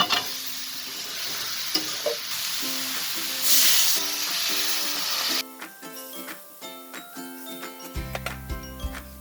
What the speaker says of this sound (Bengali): এরপর একটু নেড়ে চেড়ে কিছু পরিমাণ জল দিয়ে ঢেকে দেব